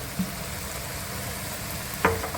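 Chicken fried rice with vegetables, Schezwan ketchup, red chili sauce, soy sauce and vinegar gently stirred in a pan: a soft, steady low sizzle with two brief clinks of the utensil, no voices.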